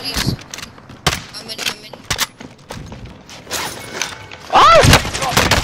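Gunfire in the video game Call of Duty Warzone: scattered sharp shots and bursts, mid-distance, with game effects and a loud burst of sound near the end, under occasional speech.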